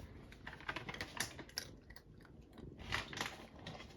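An orange cat crunches dry treats up close, quick irregular crisp bites and chewing clicks in a quiet room.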